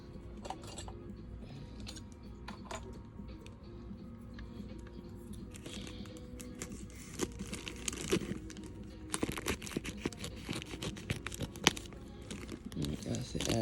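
A mailed package of doll goodies is opened, with crinkling wrapping, tearing and rustling that grows busier toward the end, heard alongside a person talking.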